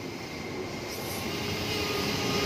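A new INKA KRL EA207 commuter train at Lenteng Agung station gives a continuous broadband rumble and rolling roar, steady and fairly loud throughout, with no voices.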